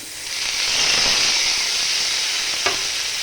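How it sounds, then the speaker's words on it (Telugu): Two tomatoes sizzle loudly in hot oil in a pan for a tomato, fenugreek leaf and sesame chutney, a steady close hiss with a brief clatter near the end. "దీంట్లో ఇప్పుడు కొంచెం ఆయిల్ వేసుకుందాం ఇప్పుడు రెండు టమాటోలు"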